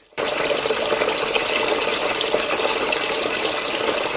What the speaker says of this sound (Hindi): मैंने सिंक का पानी खुला छोड़ा था ना?